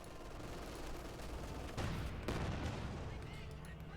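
Gunfire and battle noise in the video game Company of Heroes 2, with a couple of muffled bursts and booms over a steady low din, faint and partly mixed with a commentator's talk.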